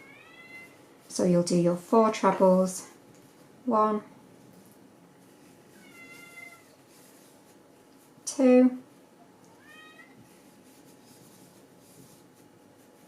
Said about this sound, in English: I do apologise for the cat meowing